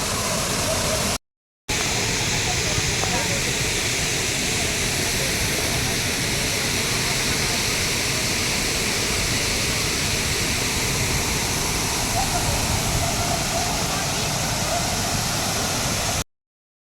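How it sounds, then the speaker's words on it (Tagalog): Bolinao Falls in Pangasinan roars in a dense, unbroken wash of falling water, loud and close from start to finish, broken only by one brief cut near the beginning. "Dito tayo, guys, sa Bolinao Falls"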